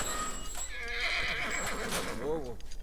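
A horse whinnies in The Last of Us game, a rising and falling neigh near the end over ambient game sound and hoofbeats, with a voice talking over it.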